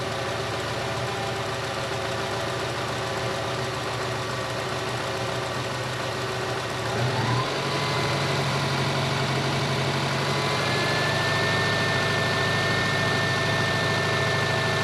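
A Subaru engine idles on a below-zero cold morning with a steady, even drone that shifts upward partway through as the revs rise, then holds at the higher pitch.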